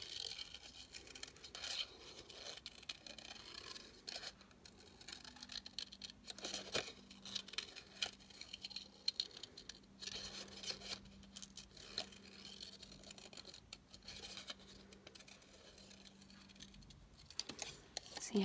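Scissors snip and crunch through paper card while cutting out bush and tree shapes with curved edges, producing quiet irregular rustles and clicks close to the microphone.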